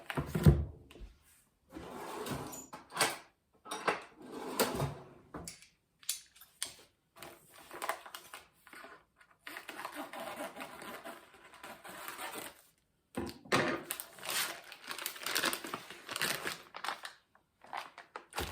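Knife cutting into a homemade cheese wheel, with crisp crumbly crunches and scraping strokes coming in irregular bursts, close and fairly quiet.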